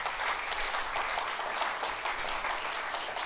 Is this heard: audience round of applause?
yes